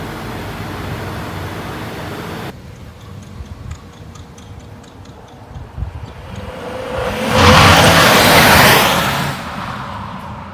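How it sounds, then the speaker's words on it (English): Tuned 2017 Lincoln MKZ making about 450 horsepower: steady road and interior noise first, then a quieter cabin with ticking, and finally a loud rising rush as the car accelerates hard. "after driving in this 2017 Lincoln MKZ, putting down 500 pound-feet of torque and making 450 horsepower"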